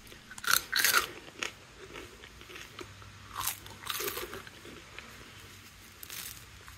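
Frozen fries cooked in an air fryer are bitten and chewed up close, with several loud, sharp crunches followed by softer crackling chews. No one speaks.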